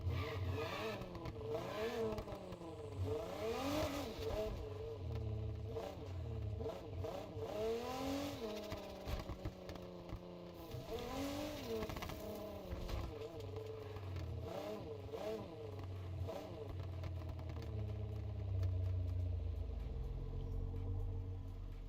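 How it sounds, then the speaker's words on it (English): A Porsche in Fortnite pulls up in a parking lot, its engine revving up and down in repeated swells before settling into a low idle, heard under ongoing conversation. "don't pull up here next to me in their Porsche like that"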